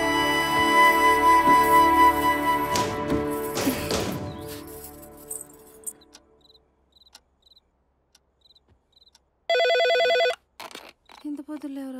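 A telephone rings in a Telugu film scene, one short loud electronic ring burst sounding alone after fading music and faint chirps at night, followed by brief noises.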